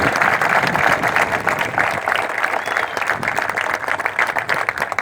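Sustained applause from a Veterans Day ceremony crowd, honoring cadets; steady dense clapping for the full stretch, fairly loud and close, with no speech over it.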